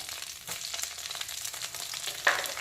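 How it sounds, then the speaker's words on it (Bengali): Panch phoron and bay leaf sizzling in oil already used for frying taro, fish and lentil dumplings, making a continuous crackling fry with a sharper pop near the end. "ভাজার তেলেই দিয়ে দেব প্রথমে পাঁচফোড়ন আর তেজপাতা।"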